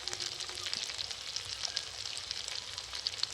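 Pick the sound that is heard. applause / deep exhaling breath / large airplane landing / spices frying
spices frying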